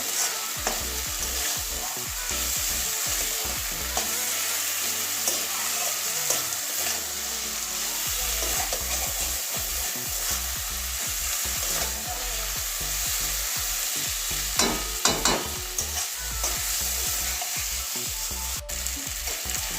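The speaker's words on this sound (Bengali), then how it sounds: "একটু কষিয়ে নিচ্ছি দু এক মিনিটের জন্য কষিয়ে নেবো" Fish roe sautés in a pan under continuous stirring, with a dense, loud sizzle and steady scraping of the spoon throughout.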